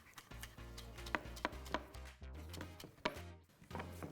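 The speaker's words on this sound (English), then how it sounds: "We want to finely chop everything." Spring onions are finely chopped on a board with a knife, giving a series of close, crisp, irregular knocks at an uneven rhythm.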